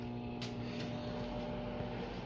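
A microwave oven runs with a steady, even hum that holds at one level from start to finish, with no voices.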